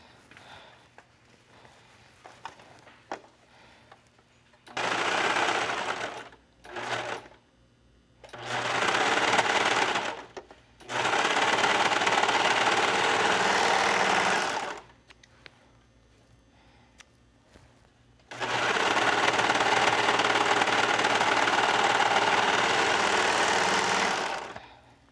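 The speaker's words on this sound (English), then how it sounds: "I'm just going to serge those side seams together." A serger sewing machine stitches the side seams of a swimsuit in four bursts of steady whirring, two short and two long, separated by quiet pauses with faint handling noise.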